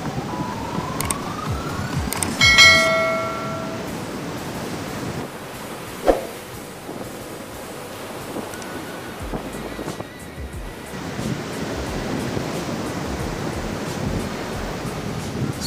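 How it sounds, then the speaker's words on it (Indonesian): Ocean waves crash continuously onto the shore at a coastal village in Goro Selatan, Indonesia, that is under emergency from the sea. Loud surf and wind buffeting the microphone are broken by a brief tonal wail early on. "Suasana ombak yang menerpa hingga badan-badan telit pun roboh"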